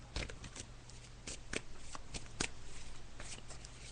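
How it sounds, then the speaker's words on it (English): A deck of cards is shuffled by hand for a psychic reading, with quick, close riffling bursts repeating in an uneven rhythm at low volume, with no talk. "Okay, Jeannie, so I'm just shuffling the cards."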